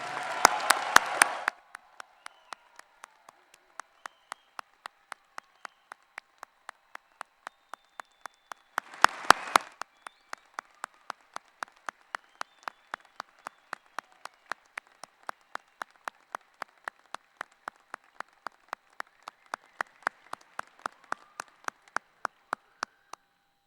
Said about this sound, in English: Let's have a round of applause for the doctoral degree recipients.